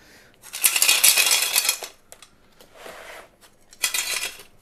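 Big pebbles rattle and clatter as they are scooped and poured while potting orchids. Three separate bursts of hard stony clicking come up close, each a second or so long, with quiet gaps between them.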